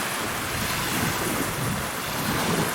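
Waves wash steadily onto the sandy beach at Tawas Point on Lake Huron, a continuous broadband surf wash with gentle swells and some wind buffeting, no voices.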